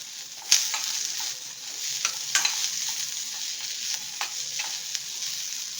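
Spices with coriander leaves frying in a pan for holige saru, a steady soft sizzle broken by several sharp stirring scrapes and clicks of a spoon, close and moderately loud with no voices.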